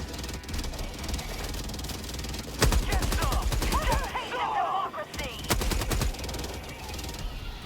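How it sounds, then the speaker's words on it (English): A heavy machine gun emplacement firing in Helldivers 2, two loud rapid bursts of dense automatic fire split by a short gap filled with game effects and distant chatter, with a voice talking at times. "The heavy MG emplacement is really good for this specific mission alone."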